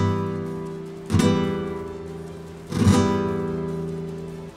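Guitar-model patch on a Roland Jupiter-80 synthesizer played as two full strummed chords, each ringing out and decaying for over a second, bright and close with no talking.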